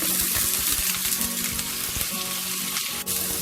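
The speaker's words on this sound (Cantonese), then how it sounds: "煎一煎呢個豆腐" Tofu sizzles and spits in hot oil in a wok, a steady loud crackling fry with occasional scrapes and clinks of a utensil, continuous and close with no talking.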